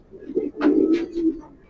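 A racing pigeon from 2013 coos in short, low, throaty phrases close by, several bursts swelling and fading in quick succession.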